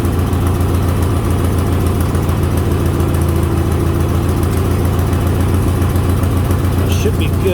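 A 1987 Craftsman GT18 lawn tractor engine idling, a loud, steady, close mechanical drone that holds throughout with no pauses.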